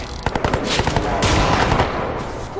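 Machine gun fire from the Crysis 2 video game rattles in a loud, rapid burst of close shots that merge into a dense roar of gunfire.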